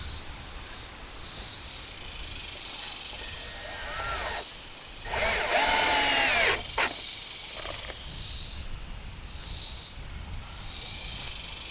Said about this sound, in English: Put a couple of screws in that to hold it